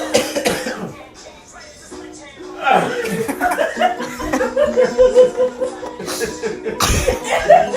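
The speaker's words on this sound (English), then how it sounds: "I coughed up a loogie" Repeated hard, harsh coughing fits from a young person, mixed with laughter and chuckles from others nearby, loud and close throughout.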